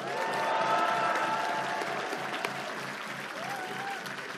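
A crowd at a street campaign rally in Chuncheon, Gangwon, applauds with a soft, continuous patter of many hands. It is fairly distant, with faint voices mixed in, and gradually eases off.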